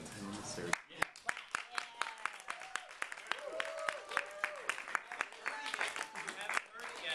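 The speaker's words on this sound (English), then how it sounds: "Stop clapping" Audience applause at the 5th SWIFT Meeting in spring 2012, a steady patter of many hands clapping with sharp individual claps standing out, while voices talk over it throughout.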